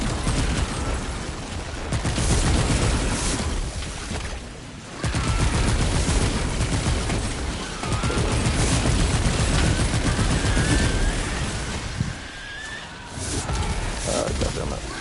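Dense, sustained gunfire from a weapon in Remnant 2 roars almost continuously, loud and close, with brief lulls between long volleys.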